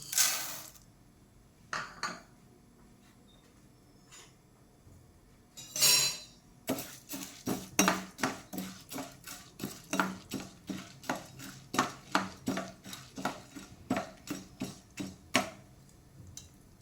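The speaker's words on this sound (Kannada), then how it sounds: "2 ಚಮಚ ಉದ್ದಿನಬೇಳೆ, 2 ಚಮಚ ಕಡಲೆಬೇಳೆ ಹಾಕಿ ಉರಿಯಿರಿ" Two spoonfuls each of urad dal and chana dal dry-roasted in a hot pan for Udupi-style sambar powder, with a steady run of light clicks and taps as a spoon stirs the lentils, fairly close and with no talking.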